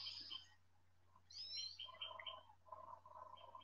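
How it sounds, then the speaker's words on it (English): Faint birdsong with chirps and warbling phrases sounds from a distance over a low steady hum, with no talking. "I'm listening to the birds right now."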